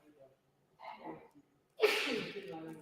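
A single sharp sneeze bursts out after some soft breathy sounds, close to the microphone and fairly loud in an otherwise quiet room.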